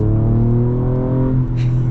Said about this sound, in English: But let's see what the acceleration's like.